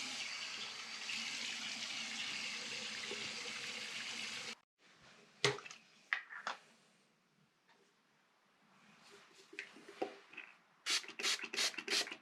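Tap water running while someone rinses off after a wet shave, a steady broad rush for several seconds that cuts out, followed by scattered splashes, drips and handling noises, then a burst of short splashing at the end.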